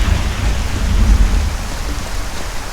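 In Skyrim, a thunderstorm brings steady, dense rain hiss with deep, rolling thunder rumbling underneath. The sound is loud and continuous, with no voices.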